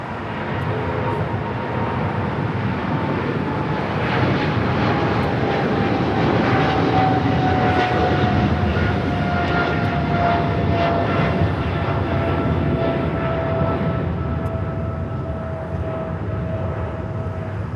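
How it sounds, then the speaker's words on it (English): Boeing 777 freighter rolling down runway 25 right at Los Angeles airport, a sustained loud jet roar with a steady whining tone drifting slightly lower as it passes, no talk over it. "I got that 777 freighter rolling down to 25 right."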